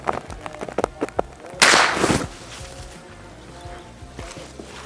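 A Galaxy LDT air rifle fires a single sharp, loud shot through a chronograph, preceded by a few small clicks and followed by a short fading tail.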